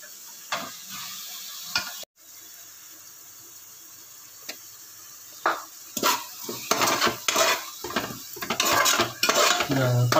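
Mutton is mixed with curd for biryani, heard as wet squelching and stirring with a spoon clinking against a metal vessel, sparse at first and then busier and louder toward the end.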